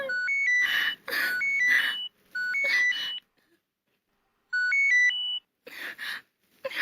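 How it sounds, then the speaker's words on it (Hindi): A phone rings with a bright electronic melodic ringtone, repeating in short bursts separated by gaps, close and clear, with no talk over it. "मैडम, किसी का फोन आ रहा है।"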